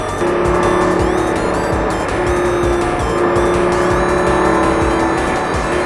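Lamborghini on a race track, engine loud and close as it brakes hard and downshifts through the gears, with tire squeal over a steady roar and no speech.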